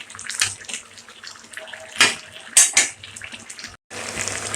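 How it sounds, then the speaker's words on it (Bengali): Water splashes and pours into a pan of cooked-down spices in uneven bursts, with a few clinks of metal, then a steady rush of pouring near the end. "তারপরে আর একটু পানি দিল"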